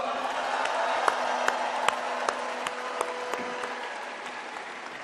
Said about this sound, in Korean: 수고하신 두 분을 위해서 큰 박수 부탁드립니다.